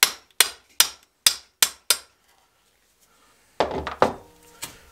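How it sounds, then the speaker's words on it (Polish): A 10 mm socket is tapped onto the shaft of an X-Fusion Sweep RC bicycle suspension fork lower leg, giving six evenly spaced sharp metallic knocks, then a pause and a few heavier, messier clanks close up. "Bierzecie nasadkę, na przykład 10 mm i sobie to delikatnie wpukujecie."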